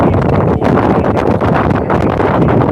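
Loud, roaring wind buffeting close to the microphone, a continuous rumbling blast with slight surges throughout.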